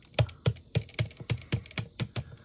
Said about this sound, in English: These shoulders are on really clicky ratchets.